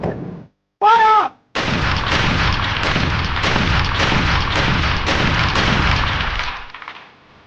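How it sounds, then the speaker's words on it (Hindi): A volley of soldiers' rifle fire after a shouted command, a short yelled voice first, then a loud dense continuous crackle of overlapping gunshots lasting several seconds before tapering off. "फायर!"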